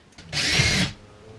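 An impact drill drives a screw into drywall in one short, close burst of whirring and rattling lasting about half a second, with quiet before and after.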